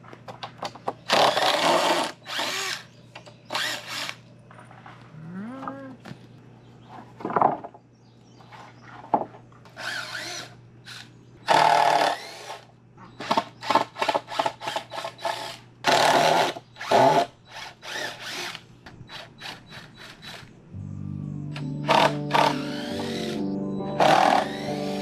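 A power drill backs screws out of wooden above-ground pool forms in short repeated bursts of whirring, some with rising and falling speed, separated by quiet gaps and ending in a longer grinding run, close and loud with no speech.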